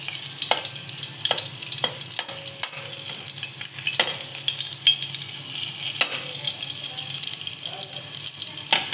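Garlic frying in ghee sputters and sizzles close by, with sharp clicks and knocks of a spoon against the pan scattered through a busy, uneven crackle.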